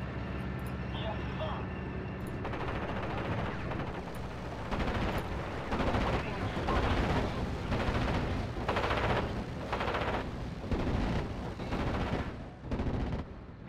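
Repeated booms and crackling gunfire from 17 pounder and 88 artillery in the WWII strategy game Steel Division: Normandy 44 roll on in dense bursts, with someone talking at times.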